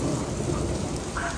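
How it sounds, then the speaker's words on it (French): Hailstones fall in a storm around a house, a dense, steady pattering roar that stays loud and close throughout, with no pause or voice. "Ça y est, ouh, c'est des grêlons."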